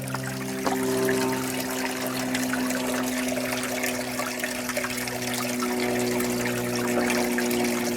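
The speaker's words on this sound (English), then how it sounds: "We should get some water flowing out of it." Water flows and trickles steadily and continuously from a spring outlet at Alum Rock Park, San Jose, a constant splashing stream with a low hum underneath and no voices.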